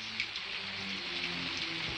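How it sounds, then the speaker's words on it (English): Steady rain patters on a surface, a dense even hiss of drops with no voices, close and fairly quiet. "It's raining."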